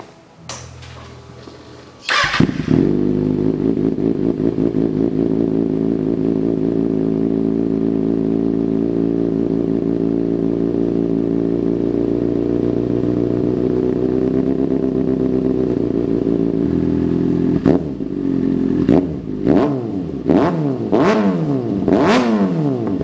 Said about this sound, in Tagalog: Ito na yung part kung saan marinig nyo na kung anong tunog ng SC project natin